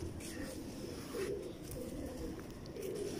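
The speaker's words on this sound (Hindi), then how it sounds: "ये उड़ने वाला कबूतर है" Pigeons coo in low, continuous murmuring tones from a flock of flying-breed pigeons kept by a pigeon fancier, fairly close and steady throughout with faint background noise.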